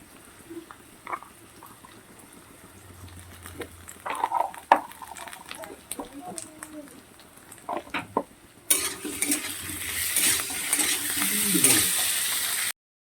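Ginger goes into a pan of pomfret fish being cooked, bringing soft stirring and utensil taps, then a louder, steady sizzle of frying that fills the last few seconds.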